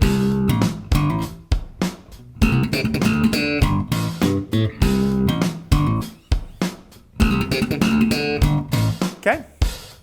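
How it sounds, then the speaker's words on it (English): A slap bass guitar riff with a ghost-note sextuplet fill, percussive thumbed and popped notes with short gaps between phrases, loud and close, repeated in a steady groove. "For the next fill, we're going to look at adding some ghost notes in there to get more of a sextuplet kind of feel."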